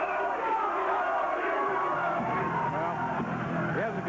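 A crowd at a 1998 Memphis pro wrestling show chanting and shouting together, a dense rhythmic roar of many voices filling the arena with rising calls near the end.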